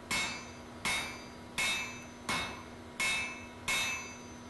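Blacksmith hammering hot iron while forge-welding an Anglo-Saxon adze socket: six evenly spaced, ringing hammer blows, each bright strike ringing out and decaying before the next, close and loud with no talk.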